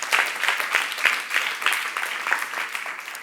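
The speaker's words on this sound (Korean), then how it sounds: "박수하세요." A church youth audience claps in a steady, dense patter of applause, moderately loud and continuous for a few seconds.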